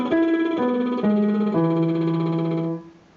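An alto singer's lip trill warm-up on an octave arpeggio: a buzzing, voiced tone stepping through four sustained notes, each a little lower than the last, heard solo and close with no talk before it fades.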